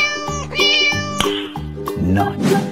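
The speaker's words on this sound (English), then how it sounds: "cat," A cat meows several times in quick, loud, close calls over a steady bouncy backing beat, with no one talking.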